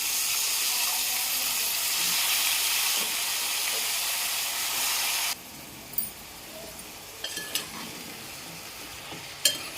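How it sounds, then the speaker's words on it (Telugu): Brinjal pieces fry in a pan with a loud, dense sizzle and hiss that suddenly drops to a softer simmer, followed by occasional sharp clinks of stirring against the pan. "ఇప్పుడు ఇందులో వంకాయ ముక్కలు వేసేసుకుందాం."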